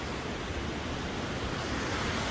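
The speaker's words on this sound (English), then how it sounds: "this 200-yard waterfall is what we found" A 200-yard waterfall on Sulfur Creek in Wyoming, heard as a steady, dense roar of rushing water that fills the whole clip without a break, loud and close, with no voices.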